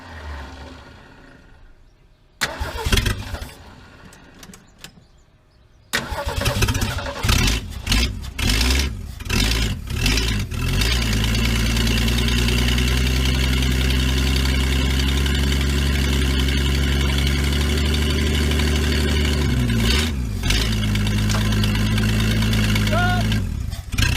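A 1982 Ford Bullnose truck engine, suffering head gasket and timing trouble, cranks in loud bursts, catches, and then runs rough at a steady, heavy idle up close, while people talk over it.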